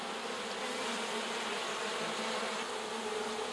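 Honey bees buzzing on a hive frame full of drone cells, a dense, continuous droning hum from many insects at close range, steady in level with no speech.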